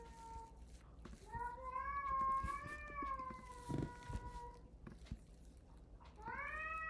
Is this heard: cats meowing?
yes